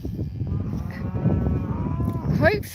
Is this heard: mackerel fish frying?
no